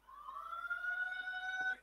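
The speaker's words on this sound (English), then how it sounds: "Sirens." A siren wailing steadily with a rising pitch, fairly distant and continuous throughout, no voices.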